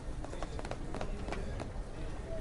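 Running footsteps from the video game 428 Shibuya Scramble patter quickly at a mid distance, a rapid series of light thuds across the moment over a soft background, with no clear speech.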